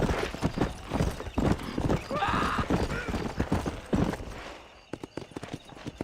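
Horse hoofbeats in Red Dead Redemption, a rapid galloping clip-clop close by with a whinny partway through, over game music and ambience.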